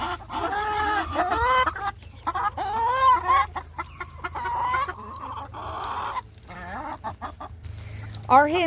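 A hen clucks and croons up close in a run of short, warbling calls, fairly loud, with little pause between them.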